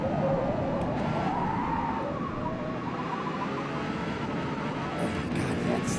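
A car in Forza Motorsport revs and slides, its engine note wavering and rising under a hiss of tyre noise, loud and continuous with faint clicks near the end.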